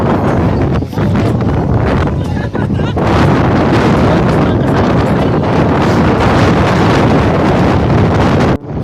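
Strong wind at Malico in the Philippines buffets the microphone with a loud, continuous roar that gusts throughout, with faint talk buried underneath.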